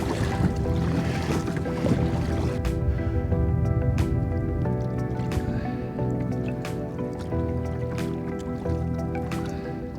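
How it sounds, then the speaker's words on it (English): Kayak paddling on New York City harbor waters, steady water splashes and drips from the blades under a continuous wash of engine and harbor noise, with periodic sharper splashes as strokes hit the surface. "I'm paddling my butt off right now"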